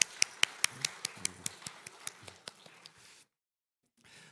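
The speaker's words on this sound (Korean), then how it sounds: "우리 하나님께 또 영광의 박수를 같이 올려드리면 좋겠습니다." Church congregation at a Thanksgiving Sunday service in a Korean church, giving a round of rhythmic unison claps that fade, then stop abruptly into silence before faint room sound returns.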